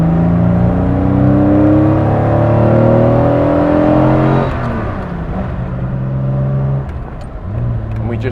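An Aston Martin DB4 Series 5 runs loud and close while driving, its engine droning at steady revs, then easing off and picking up again.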